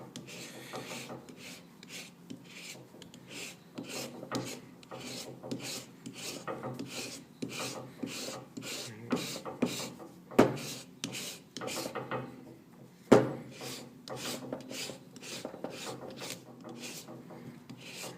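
A rasp filing carved plaster in steady, repeated strokes, each a dry scraping rub with a regular rhythm, close and moderately loud, with a couple of sharper knocks.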